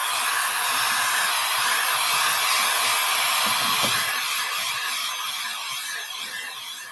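A hair dryer runs steadily at close range, blowing to dry brown antiquing gel on a craft project, a continuous broadband whoosh that holds level for most of the stretch before easing slightly toward the end.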